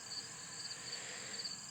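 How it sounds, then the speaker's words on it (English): Crickets chirp outdoors on a fall day, a continuous high trill with a steady pulsing rhythm, faint and even throughout with no other sounds. "You can probably hear the crickets and things here"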